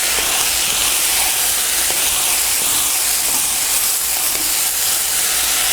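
Brussels sprouts sizzle in a covered pan, a dense, steady frying hiss that stays loud and unbroken throughout, with no voices.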